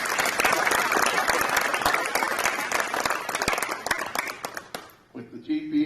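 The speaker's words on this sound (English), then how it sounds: "Give her a round of applause." Enthusiastic applause at a high school signing day, a dense, loud clapping crowd with sharp individual claps that swells for about five seconds, then cuts to a voice speaking.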